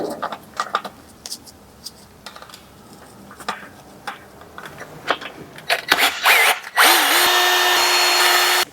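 Power tool driving the cylinder head bolts on a PureTech engine in a workshop, opening with scattered clicks and knocks, then a loud, steady sustained whir near the end.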